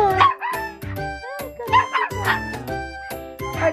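A small dog, a black poodle or Pomeranian, barks and yips in short, sharp bursts again and again at close range during a playful meeting between the two dogs.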